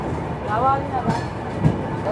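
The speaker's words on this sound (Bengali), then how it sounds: "আমাদের ট্রেন প্রবেশ করতেছে নড়াইল" The Rupsi Bangla Express rolls into Narail station with a low, steady rumble and a few faint knocks, while voices murmur over it.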